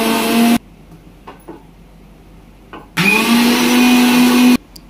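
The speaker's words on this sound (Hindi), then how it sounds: "अब ये पालक को अच्छे से निचोड़ के पानी को इसको एकदम महीन मिक्सर में पीस लेना है हमें" A kitchen mixer grinder whirs loudly as it purees squeezed spinach with green chilli, ginger, coriander and mint leaves, running in two close bursts separated by a few seconds of quiet with faint clinks.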